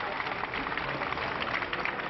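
Sustained, enthusiastic applause greets Alain Juppé as he takes office, a steady wash of clapping from a crowd with a voice speaking over it.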